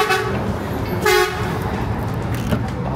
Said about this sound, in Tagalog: Nakasama ng busina nun.